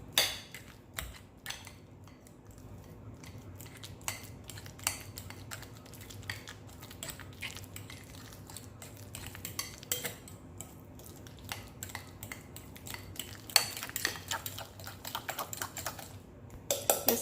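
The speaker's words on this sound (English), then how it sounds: "I'm going to use my fork again and just grind it in with the other banana" Ripe banana is mashed with a fork for a flourless oat bread batter: a long run of light, irregular clicks and taps of metal against a bowl, close and fairly quiet throughout.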